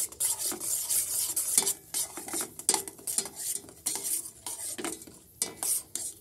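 A spoon stirs milk tea in a pot, scraping and clinking against the metal in quick irregular strokes, close and fairly loud over a faint bubbling simmer.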